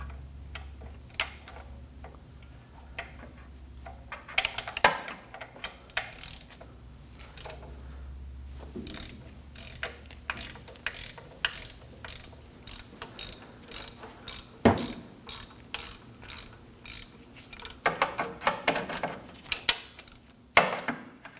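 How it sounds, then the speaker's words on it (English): A ratchet with a 17mm socket clicks in irregular bursts as it loosens the accessory belt tensioner bolt on a 2011-2016 Kia Optima 2.4L, joined by light metallic handling sounds, fairly quiet and with no voices. "using a 17mm socket, go ahead and remove the bolt that's behind that"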